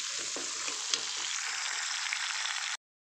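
Green chillies fry in a pan with curry leaves for a coriander chutney, giving a steady, close, bright sizzle that runs unbroken for nearly three seconds before cutting off.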